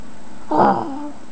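A voice imitates a dog barking, giving a single short, drawn-out bark-like call near the microphone, alone without other talk.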